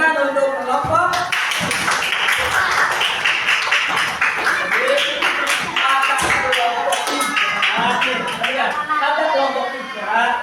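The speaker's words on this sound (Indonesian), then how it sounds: "mengucapkan tepuk tangan untuk kelompok" A group of students in a classroom clapping hands together, a dense rhythmic burst of close, loud claps that runs throughout, with voices and chatter mixed in.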